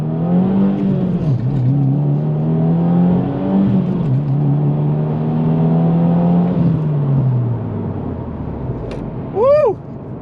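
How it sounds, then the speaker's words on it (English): A Subaru WRX engine pulls hard under acceleration with its charcoal intake filter removed, loud rising induction roar through several gear changes, ending with a brief chirp-like sound near the end. "You get a little bit more induction noise by taking out that charcoal filter too"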